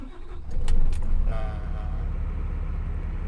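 A Nissan Quest car engine starts up close by with a brief cranking burst and a couple of clicks, then settles into a steady low idle.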